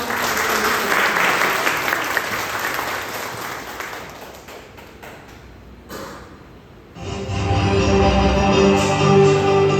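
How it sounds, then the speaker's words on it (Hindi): Loud applause from an audience at a product launch event for alkaline mineral drops, dense clapping filling the first several seconds before thinning out, then music and other sound taking over. "एक बार जोरदार तालियों के साथ"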